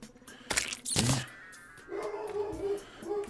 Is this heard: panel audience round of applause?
no